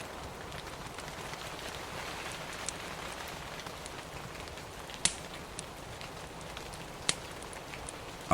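Rain falls steadily on a village porch, an even soft patter with occasional louder drops landing nearby, calm and unbroken by voices.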